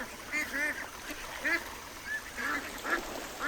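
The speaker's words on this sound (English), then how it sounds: "They're floating briskly, quacking in delight as they spot me." Ducks floating on water quack repeatedly in short, nasal bursts, moderately near over a quiet outdoor background, with some soft voice-like sounds mixed in.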